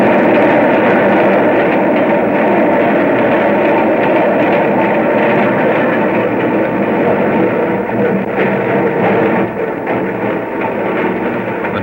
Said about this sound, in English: Now the train was stopping.